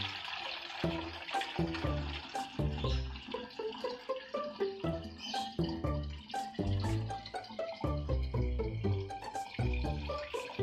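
Homemade organic orchid fertilizer liquid is poured through a strainer, splashing and trickling steadily into a spray container, with small drips and clinks throughout, fairly close and continuous.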